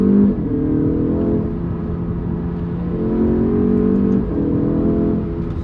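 An Alfa Romeo Giulia Veloce Ti's muted engine revs up through rising tones, holding a smooth close hum before a brief shift and another climb, alone without talk.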